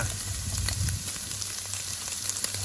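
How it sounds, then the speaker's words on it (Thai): Crab meat fries in a hot pan with garlic, giving a dense, steady sizzle with fine crackling and a low rumble beneath, close and fairly loud with no talking. "เอาปูใส่เลยเนาะ เราจะอบเนื้อปูให้สุกก่อนใช่ไหมยายอ่า"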